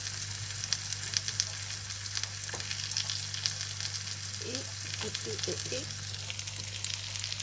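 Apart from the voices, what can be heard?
cheese-stuffed potatoes sizzling on a barbecue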